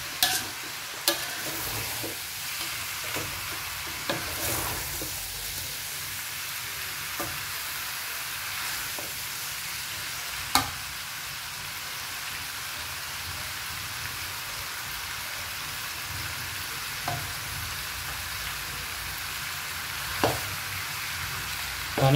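Chicken pieces stir-fried in a generous amount of oil in a pan for a Thai home-style dish, giving a steady close sizzle and crackle with occasional sharp clinks and scrapes of a utensil against the pan, and no talking.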